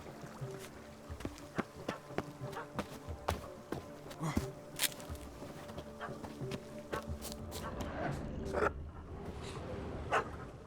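A dog in The Witcher 3 gives a run of short, sharp barks at irregular intervals, moderately near, over ambient game noise with footsteps and water sounds, ending in a louder, busier stretch.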